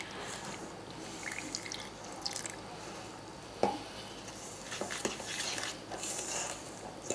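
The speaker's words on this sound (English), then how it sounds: "I'm gonna start adding 1/2 cup of water. I'm just gonna stir it in," Water poured into a homemade play dough mixture and stirred in, giving soft wet drips, sloshing and stirring sounds with a few sharper knocks, steady and fairly close.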